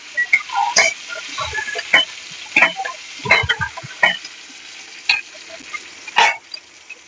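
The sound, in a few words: cumin, chilli and curry leaves spluttering in hot oil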